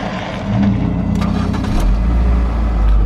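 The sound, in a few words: red maintenance truck driving by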